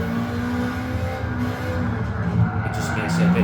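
Car engine in Gran Turismo 7, a steady droning hum that holds at a constant pitch throughout, rising slightly near the end, with no break in the sound.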